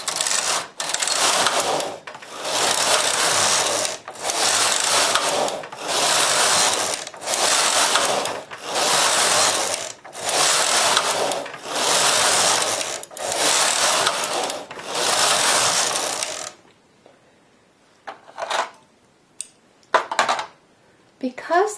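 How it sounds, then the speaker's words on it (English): A knitting machine works lace from yarn, its carriage sweeping back and forth in a steady rhythm of loud, long rushing swishes with brief gaps. The passes stop, leaving a few scattered clicks and light handling noises. "Because the machine knits and makes lace all at once, you can go really fast."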